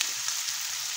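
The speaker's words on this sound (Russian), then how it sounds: "лучок уже, видите, как сковородочку хорошо нагрели с маслечком" Onion sizzles steadily in hot oil in a well-heated frying pan, a bright continuous crackle close by with a few small pops and no talking.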